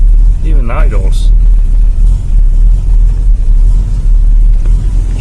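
A 1966 Ford Mustang engine idles close by with a deep, steady low rumble that runs throughout, while a voice speaks briefly over it near the start.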